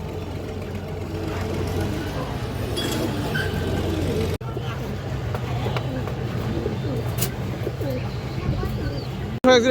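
Soft, low cooing from Kaldum and high-flyer pigeons murmurs through a steady background hum, with occasional brief chirps and faint voices nearby.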